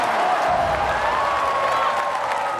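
Crowd roaring and cheering in a gladiator arena, a continuous dense mass of voices with scattered applause, steady and loud throughout.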